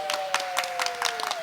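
Church congregation clapping for Jesus at a Christmas service, a fairly faint, irregular patter of hands with scattered sharper claps over about a second and a half, a steady tone lingering underneath.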